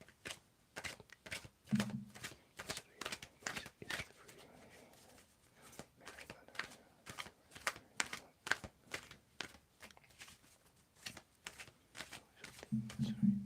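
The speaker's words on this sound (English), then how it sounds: "Stop the shuffling." Tarot cards are shuffled in a steady run of quick riffling bursts, close and fairly quiet, pausing briefly now and then before resuming.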